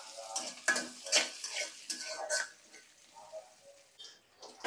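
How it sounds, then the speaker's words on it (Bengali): Lentil dumplings (bori) frying in oil in a home kitchen, with scattered sizzling crackles and a utensil stirring and scraping the pan in close, uneven bursts, no talking. "এই যে সুন্দর করে বড়িগুলো আমি ভেজে নিচ্ছি তেল দিয়ে।"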